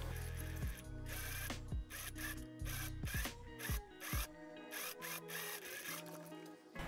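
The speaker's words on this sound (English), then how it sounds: "Let's sew this together." A sewing machine stitching dirndl pieces together for an Oktoberfest dress, its mechanism running in close, loud bursts of rapid rhythmic clatter with brief pauses between runs.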